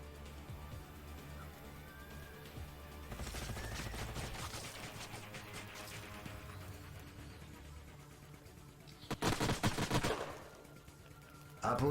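Gunfire in the strategy game Age of Wonders: Planetfall comes as a sniper rifle and weapons fire in bursts, a rattling volley midway and another sharp cluster near the end, moderately loud over a quiet background hum.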